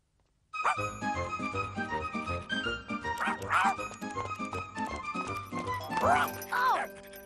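A cartoon dog barks and yips in a series of bright, bouncy calls over a jaunty musical score, with short whimpering yelps near the end.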